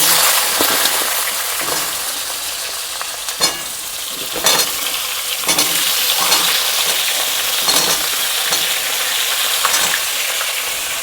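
Potatoes frying in hot oil with bay leaf and tempering spices in a home kitchen pan: a loud, continuous sizzle with bursts of crackling and occasional stirring scrapes, close by and without talk.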